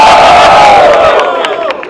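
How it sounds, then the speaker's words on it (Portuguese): At a São Paulo freestyle rap battle, the Batalha do Coliseu, a dense crowd cheers, shouts and yells in a sustained roar. The noise tapers off slightly near the end. "Barulho só pra quem achou que foi Big Z, família!"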